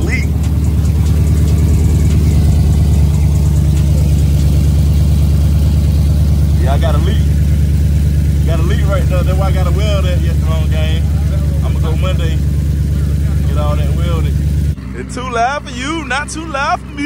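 A Dodge Charger SRT8 fitted with longtube headers idles loudly nearby, its deep, steady rumble running continuously until it cuts off abruptly near the end, while people talk over it.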